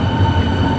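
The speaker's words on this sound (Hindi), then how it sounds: "और हम अब इस ट्रेन में बैठ के जाएंगे।" A train at a snowy station in Germany, heard as a steady low rumble and hum of the carriage throughout, with no clear wheel clatter or voices.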